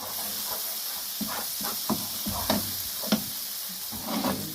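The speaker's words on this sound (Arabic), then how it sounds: "دابا البصله تشحرات" Onions sizzle and crackle steadily in a hot frying pan, with occasional sharper pops and soft scrapes from stirring, close and fairly quiet, no voices.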